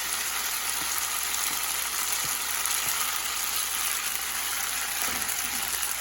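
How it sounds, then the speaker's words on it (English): Butter and garlic sizzle in a pan while being stirred, a dense steady hiss with occasional soft utensil taps, close and even throughout, no voices. "We'll just continuously to stir the butter and garlic together"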